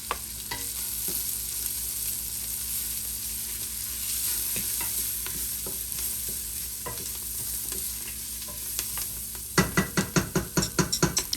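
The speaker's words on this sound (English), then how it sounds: "give it a good stir" Quinoa and beans chili being stirred in a pot over a steady sizzle, then a quick burst of rhythmic spoon scrapes at the end, close and fairly loud.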